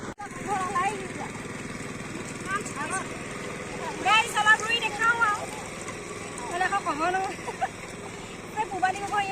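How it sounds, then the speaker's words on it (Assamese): A tractor ploughing a field, its steady engine drone chugging throughout, near and fairly loud, while a person talks over it intermittently. "সেইফালে পূৰা ট্ৰেক্টৰ হাল বাই আছে"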